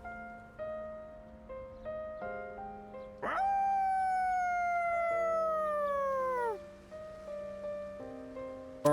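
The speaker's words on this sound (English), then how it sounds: "Koromaru's howl resounds throughout the quiet shrine." A dog howls at a quiet shrine in the video game Persona 3 Reload, one long, loud, falling howl of about three seconds, rising clearly above soft, steady game music.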